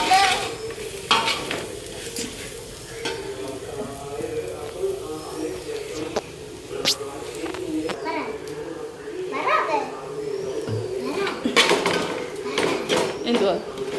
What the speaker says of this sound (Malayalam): എല്ലാം ഇളക്കുന്നത് എൻ്റെ അമ്മയാണ്